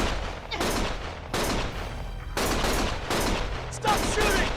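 Gunshots in the Lost Judgment video game, loud, sharp bursts of fire repeating in uneven clusters with short gaps, under faint background voices.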